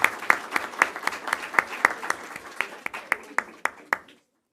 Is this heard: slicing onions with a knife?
no